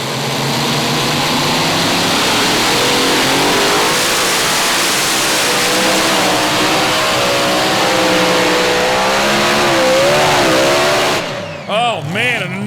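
A super modified pulling tractor roars at full throttle during a pull, a loud, sustained engine blast with wavering pitch that cuts off abruptly near the end; a voice comes through underneath.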